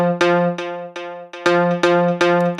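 Elektron Digitakt 2 sample chain triggered on three tracks at once, each step sounding: a repeating pattern of sharp, bright, tonal hits with a steady low drone, evenly spaced and loud, no voices.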